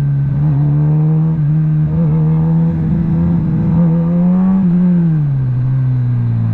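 A Kawasaki ZX10RR motorcycle engine revs loud and close, its steady tone rising and dipping slightly and then settling to a lower pitch.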